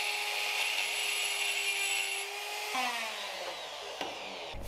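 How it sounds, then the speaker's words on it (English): Die grinder enlarging a mounting hole in a steel platen for a 2x72 belt grinder, a steady high-pitched whine with a grinding rasp that drops in pitch partway through, fairly close and alone. "I decided to enlarge the second hole in the mounting section of the platen with a die grinder"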